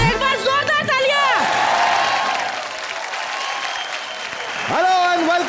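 A studio audience at a comedy TV show breaks into loud applause and cheering for a few seconds, with voices speaking before and after the clapping.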